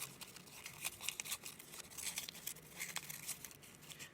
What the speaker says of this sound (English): what I'm going to do is cut with my scissors